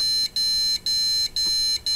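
A PC motherboard gives its POST beep warning for a missing graphics card: loud, high electronic beeps repeat in a steady pulsing rhythm, with no talking.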